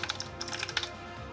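Close, quick keystrokes on a computer keyboard while entering spreadsheet entries, rapid uneven clicks in a short burst that thins out toward the end.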